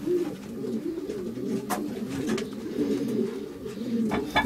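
Pigeons cooing in a pigeon loft, several birds overlapping in soft, steady low coos close by.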